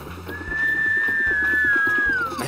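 A cartoon train whistle blows one long, steady, high tone for about two seconds and then slides down in pitch at the end, heard over a rhythmic chugging engine and background music.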